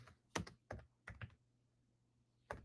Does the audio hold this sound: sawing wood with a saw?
no